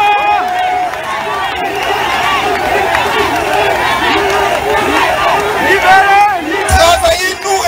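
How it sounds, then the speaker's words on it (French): A large crowd at a Cameroonian political rally in Paris roars with cheering, whoops and chattering voices, a loud, continuous mass of sound with shouts swelling toward the end. "Applaudissez encore plus fort pour lui."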